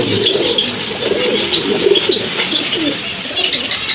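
A red German shield pigeon coos steadily and loudly close by, its soft throaty calls repeating over a dense background of other birds cooing and chirping.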